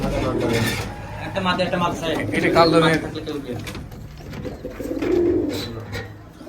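Giribaj pigeons cooing in an enclosed indoor pigeon loft, repeated low throaty coos under someone talking over the birds.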